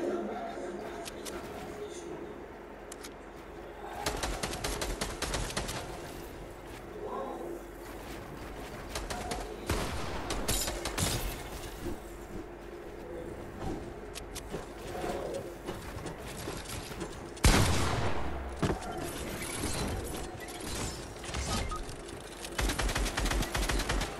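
SCAR assault rifle fire in Fortnite crackles in repeated bursts of sharp shots, sometimes rapid strings, over ongoing game ambience, with occasional faint talking.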